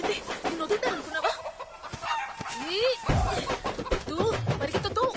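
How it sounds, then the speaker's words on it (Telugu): Chicken clucking in a farmyard chase scene from a Telugu film, the bird's calls rising and falling over several seconds amid loud voices and commotion. "కోడిని పట్టుకోవాలా?"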